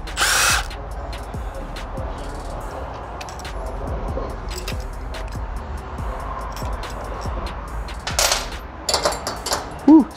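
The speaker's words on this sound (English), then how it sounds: "So we have to take these screws out." A power drill backs out screws on a 2023 BMW S 1000 RR motorcycle, running in short repeated bursts with pauses between, close and fairly loud.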